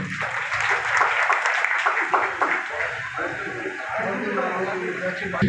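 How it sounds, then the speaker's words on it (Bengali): Audience applause breaks out at a crowded neighbourhood ward meeting in Sonarpur, a steady wash of clapping that runs throughout while voices talk over it. "আপনারা সবাই করতালি দিয়ে একটু সমর্থিত করবেন।"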